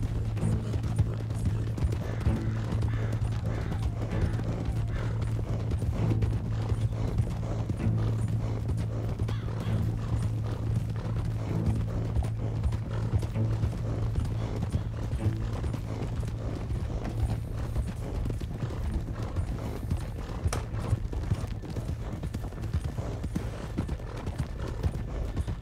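Steady clip-clop of horse hooves at a riding pace in the video game Red Dead Redemption 2, continuous and even over a low constant hum, with no talk.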